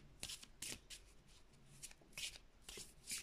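Oracle cards are shuffled by hand in a series of quick, faint riffling and snapping bursts, each short and crisp, spread at a steady rhythm.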